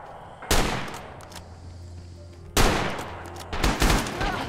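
Gunfire from the Japanese Type 99 rifle in Rising Storm, Kwajalein battle: two loud, sharp close shots about two seconds apart, followed by further rapid cracks and echoing reports.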